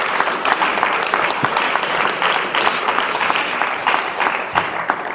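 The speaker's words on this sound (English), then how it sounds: "let's give those guys a hand too." Steady, dense applause from an indoor audience at a teacher appreciation ceremony, many hands clapping loudly and continuously with no voices over it.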